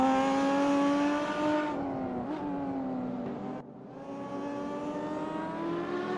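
A Lotus race car in a sim racing game drones steadily along the track, its engine tone holding high, dipping briefly as it shifts or lifts, then climbing again, continuous and fairly close with no talk.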